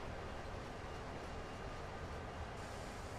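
Steady broadband rumble of a train decelerating in Train Sim World, a continuous rolling drone with no distinct clanks and no speech.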